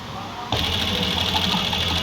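Sewing machine starts up and stitches steadily, running alone with a bright whirring hum, while stitching a shirt lining.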